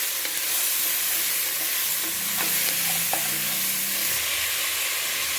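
A spoon stirs a sautéing mixture of vegetables and spices in a pot, made for bisibelebath sambar rice: steady close sizzle with scraping strokes against the pot base, no voices.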